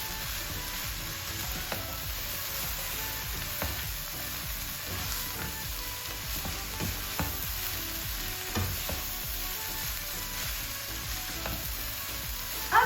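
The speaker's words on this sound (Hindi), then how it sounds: "जो फ्लेम है उसको हाई कर देंगे। वेजिटेबल्स को मिक्स कर लेंगे अच्छे से।" Vegetables for chicken spring rolls stir-fry in a pan over high flame, giving a steady, close sizzle with occasional light stirring clinks and no talking.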